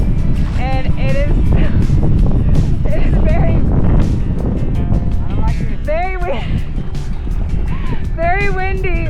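Strong wind roars and buffets steadily on an open lake in Argentina while paddling against the current, a constant loud rush with voices speaking over it.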